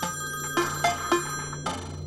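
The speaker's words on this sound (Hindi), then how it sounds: "भाई पुलिस वाले के फोन पे कॉल आ रहा है।" A police officer's mobile phone rings with an incoming call, a repeated electronic ringtone pulsing in several short bursts over a steady low hum, fairly close and with no talk over it.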